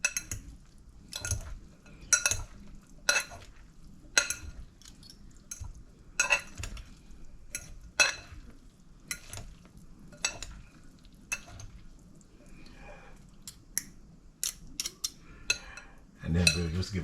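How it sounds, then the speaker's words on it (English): Orzo pasta salad tossed in vinaigrette, heard as a series of sharp utensil clinks and scrapes against a bowl, irregular and fairly close, with quiet gaps in between and a louder stir near the end. "give it a toss"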